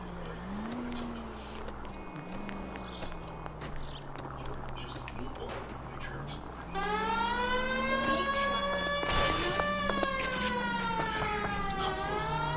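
A police car siren wails in a video game, its rising and falling tone loud and continuous over a low engine drone, with a second siren layer joining about halfway through and growing stronger, accompanied by some talk.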